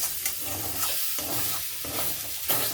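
A spatula scrapes and stirs thick ground green pea curry in a pan, rhythmic strokes every half second or so over a low sizzle as the liquid cooks down, close and without talk.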